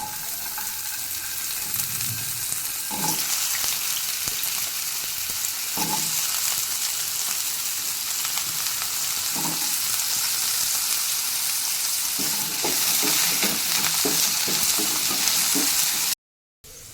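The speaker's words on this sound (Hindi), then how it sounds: "तेल तातीगला आलू पकईना।" Potatoes fry in hot oil in a pan for a Kolkata-style aloo curry, giving a steady, close sizzle that runs throughout, broken by occasional clinks and scrapes of stirring, with no talk.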